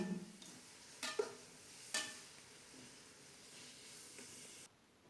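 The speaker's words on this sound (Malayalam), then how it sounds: "ഇനിയിപ്പോൾ ഇതാ ഉള്ളി വാടിയ ശേഷം അതിലേക്ക് തക്കാളി ഇട്ട് കൊടുക്കാം. ഒന്ന് ഇളക്കി കൊടുക്കാം." Tomatoes and onions frying for fish biryani, a soft, steady sizzle broken by a few sharp scrapes of a stirring spoon against the pan, quiet and close, cutting off near the end.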